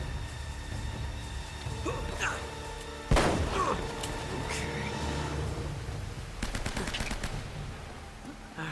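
Gunfire in the video game Uncharted: Drake's Fortune, a few sharp shots and a short rapid burst cutting through game sounds while a player talks over them.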